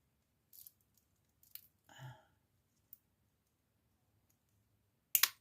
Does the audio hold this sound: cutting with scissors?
yes